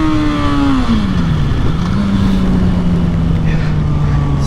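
A cold motorcycle engine, well below operating temperature, runs rough and loud, its pitch dipping and then settling into a steady uneven drone throughout.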